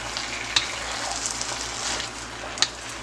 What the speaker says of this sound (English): And now I'm going to add my meat back to that. Just mix it in.